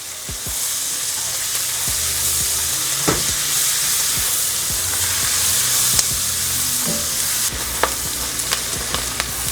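Onions sizzle steadily in a pot with crispy bacon while making Manhattan clam chowder. The frying hiss is loud and close and continuous, with occasional clinks and scrapes from stirring.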